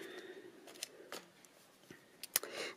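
Several short, sharp snips of scissors cutting a wedge from a card panel for a Stampin' Up! bird house gift box, spaced irregularly and close by over a quiet background.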